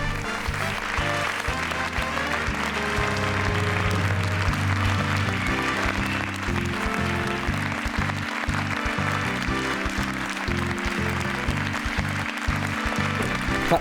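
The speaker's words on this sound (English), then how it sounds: "Clap, clap, clap, clap, clap." Continuous applause from a studio audience at the close of a 15 to 1 quiz show, steady and full throughout, blended with theme music.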